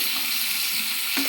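Pangas fish and spices frying lightly together in a pan, giving a steady close broadband sizzle with a small clink near the end.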